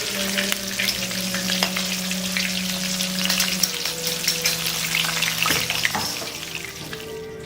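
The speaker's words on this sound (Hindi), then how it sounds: "डीप फ्राई में बहुत ही अच्छे तरीके से ये फ्राई होती है और जल्दी फ्राई हो जाती है" Lahori masala fish pieces deep frying in hot oil, a dense, steady sizzle and crackle with occasional stirring clinks, close and continuous with no talking.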